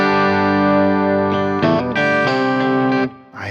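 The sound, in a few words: twelve-string electric guitar being played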